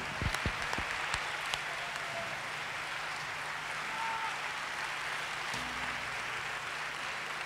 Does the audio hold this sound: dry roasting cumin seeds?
no